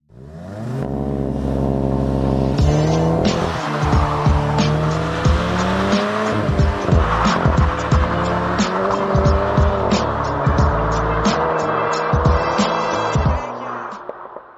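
A GWM Tank 300 Hybrid, pairing a 2-liter turbocharged gasoline engine with an electric motor, launches hard: the engine roars close and loud, climbing through gears with sharp shifts and tire squeal, with no talking.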